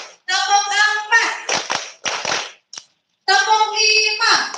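Children in a school morning assembly chant a counting clap game, voices calling out numbers between sharp bursts of group handclaps in a quick rhythm, with a short silent gap midway.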